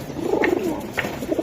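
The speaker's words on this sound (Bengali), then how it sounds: "এটা লাল মাকড়া কবুতরটা দেখছেন ভাই?" A red Makra pigeon coos softly in a pigeon-selling setting, low throaty coos rolling in short bursts with faint chirps in the background.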